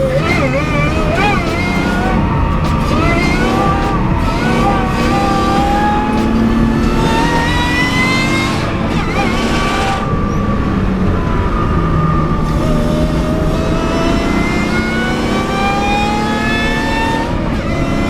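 Supercharged BMW 328i with an Eaton M90 V3 compressor, built as a track car with manual conversion and wide body kit, accelerating on a French road; steady loud engine drone with rising harmonics through gear changes, voices faintly underneath.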